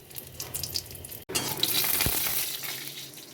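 Nigella seeds and dried chilli hit hot mustard oil, a quiet hiss that swells into a steady close sizzle after a brief dropout, with no voices.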